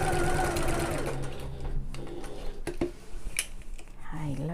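A sewing machine stitches a backpack seam in rapid whirring bursts that stop and restart, with a few clicks between runs.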